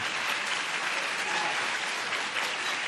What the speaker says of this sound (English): Let's give him a strong round of applause for President Nariman Farvardin.